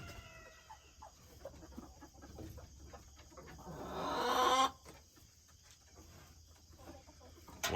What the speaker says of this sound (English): Sometimes we'll see 2 chickens try to push their way into the same box.